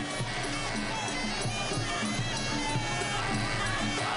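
A stadium crowd of over 10,000 at the 2004 Muay Thai S1 Tournament, on their feet, makes a steady, dense roar that fills the whole moment without letting up.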